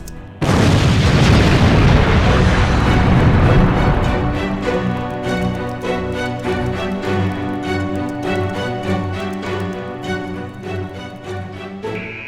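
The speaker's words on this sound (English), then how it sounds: "Enemy nuclear reactor destroyed." A nuclear reactor explosion sound effect: a loud, broad, rumbling blast that fills the first few seconds, then fades into sustained, ringing musical tones.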